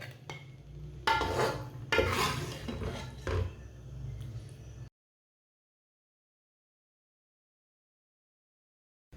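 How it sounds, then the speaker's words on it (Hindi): Turnip curry (shalgam salan) is served onto a plate: a few clinks and scrapes of a spoon against the pot and plate in a quiet kitchen, then silence. "इसे प्लेट में डाल लेंगे"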